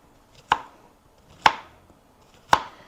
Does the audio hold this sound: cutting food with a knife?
yes